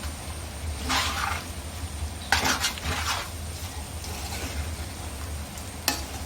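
Pork fry with fried coconut pieces stirred in a pan: steady sizzling frying bed with intermittent scraping strokes of a spoon against the pan and a sharp clink near the end, close and moderately loud.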